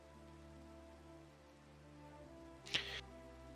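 Steady rain falls in the video game Nubioc, a soft even patter throughout, with a brief brighter splash or hit near the end; faint and distant, no voices.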